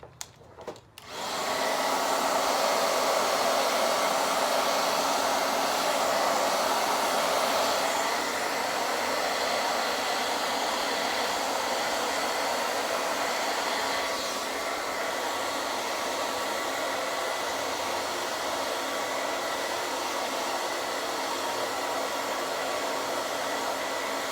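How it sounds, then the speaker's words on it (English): A hair dryer blows steadily on a chalk-painted porch sign, switching on with a click and a few small knocks, then running as a loud, even whoosh for over twenty seconds with no talking. "I'm gonna take a hairdryer to it"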